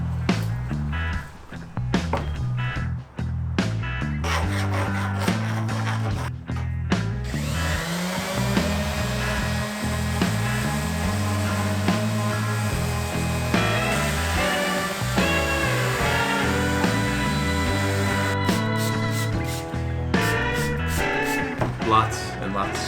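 A power sander with 80-grit paper whirs continuously across a live-edge wood slab, a shifting, grinding drone with brief pauses and changes in pitch.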